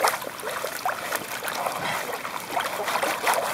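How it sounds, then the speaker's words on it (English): Gravel shaken in a gold pan under icy creek water in northwest Tasmania, giving a steady wash of sloshing and gritty swirling throughout, close and moderately loud, with no voices. "Give it a good shake off."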